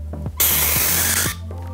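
A metal object set on a block of dry ice gives a loud, steady shrill hiss and squeal lasting about a second, preceded and followed by quieter tonal squeaks.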